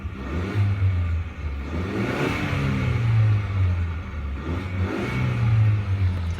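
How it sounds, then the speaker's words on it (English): A 2019 Ford Ranger XLT four-cylinder engine idles and revs in waves, rising and falling several times, close and steady, with no talking. "So it sounds like a 4-cylinder engine"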